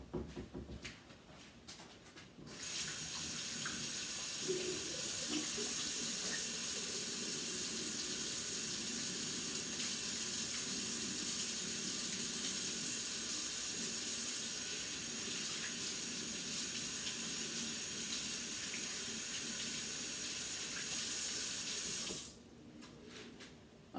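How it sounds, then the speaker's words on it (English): Hands being washed under a running kitchen sink faucet, a steady hiss of water lasting about twenty seconds, starting and stopping abruptly, with faint handling clatter at the start. "Let me wash my hands"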